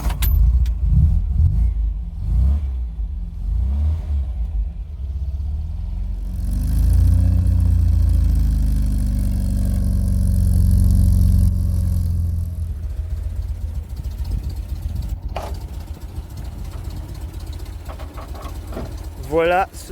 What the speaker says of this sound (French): Est-ce qu'on ne pourrait pas démarrer la voiture